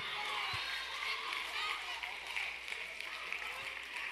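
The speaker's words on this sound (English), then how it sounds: "Clap your hands right now." Audience in a church service clapping hands together, a thick continuous wash of claps mixed with shouting voices and speech throughout.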